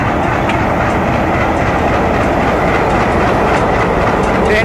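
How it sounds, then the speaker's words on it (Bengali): The Nakshikantha Express pulls out of Vanga Railway Station in Faridpur, filling the platform with a loud, close, steady roar and rhythmic wheel clatter from start to finish. "কিছুক্ষণের মধ্যেই ছেড়ে চলে যাবে এই নকশিকাঁথা এক্সপ্রেসটি"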